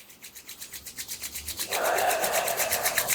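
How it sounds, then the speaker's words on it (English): Palms rubbed briskly together during a somatic movement exercise, a steady rhythmic swishing that starts as soft, regular strokes and then becomes a faster, denser continuous friction, close to the microphone with no talking. "Last one, rubbing your hands."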